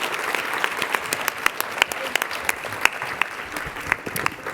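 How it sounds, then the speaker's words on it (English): Audience at a healthy schools award ceremony applauding, dense sustained clapping with sharper individual claps standing out, fairly close and steady throughout. "Give them a round of applause."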